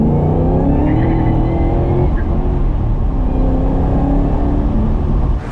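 A 650hp 1967 Chevelle built by Roadster Shop accelerates hard, its engine roaring loud and close from inside the car with a rising, sustained drone and no break.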